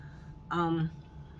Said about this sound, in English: Please forgive me, the cat is in heat.